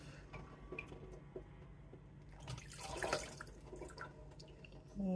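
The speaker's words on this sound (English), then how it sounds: "wash it off." Water from a kitchen tap runs while something is rinsed under it in a home kitchen, a faint, steady splashing and trickling with a few louder drips, no voices.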